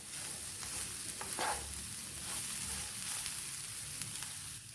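Cabbage and grated carrot tossed and stirred in a hot pan for a thoran stir-fry, with a steady close sizzle and scraping stirs throughout and no talking.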